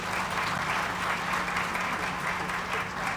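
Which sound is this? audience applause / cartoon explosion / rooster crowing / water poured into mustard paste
audience applause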